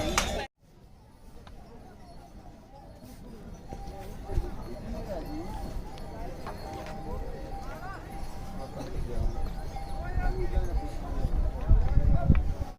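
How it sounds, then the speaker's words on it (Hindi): Horse hooves clop irregularly along a mountain path on the Kedarnath Yatra pilgrimage route amid a busy outdoor background with people talking, the steps growing louder and closer toward the end. "और देख सकते हैं घोड़े कैसे चल रहे हैं।"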